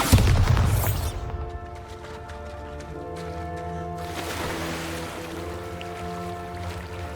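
A Bombarda blasting spell in Hogwarts Legacy goes off with a loud, deep boom at the start, then a long low rumble and ringing tones fade out under game ambience.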